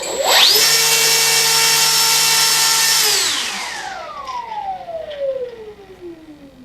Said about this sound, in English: if you listen closely, you can hear servos whining at you